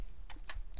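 A few sharp, faint clicks of keys struck on a computer keyboard while entering an Excel pivot table shortcut, three separate taps in a quiet room.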